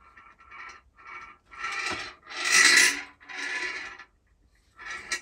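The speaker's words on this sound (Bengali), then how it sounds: "এর ভিতরে একটা নাট আছে, ওই নাটটা সরছে, ওই জন্যই এরকম শব্দ হচ্ছে" A gifted item with a loose nut sliding around inside, heard as a series of close, dry raspy scraping bursts of varying length with short pauses between them, alone without talk.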